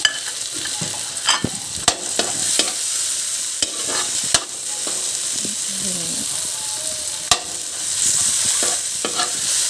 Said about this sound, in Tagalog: Kailangan lahat ng cubes ginigisa.